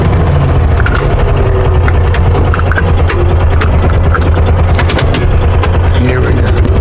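A Mule utility vehicle in four-wheel drive straining to pull logs: a loud, close, continuous engine drone with a throbbing low rumble and scattered knocks and clatter throughout.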